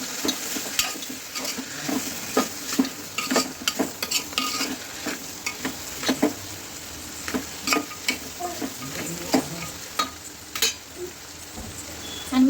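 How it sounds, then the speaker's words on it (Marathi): Masala, chutney, garam masala and salt are stirred with rice in a pan for masala bhat. Rhythmic scraping strokes of the spoon repeat, about one each second, over a soft, constant sizzle. "मसाला, चटणी, गरम मसाला आणि मीठ वगैरे घेतलेलं ते ह्याच्यामध्ये घालून घेणार आहे आणि ते पण व्यवस्थित मिक्स करून घेणार आहे"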